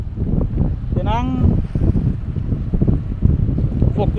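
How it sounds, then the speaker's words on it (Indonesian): Strong wind blows at a ship's dock, a loud, continuous rumbling roar buffeting the microphone, with a brief whistling tone near the start. "Jadi angin kuat di sini teman-teman, bisa lihat angin kuat."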